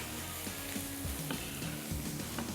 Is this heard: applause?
no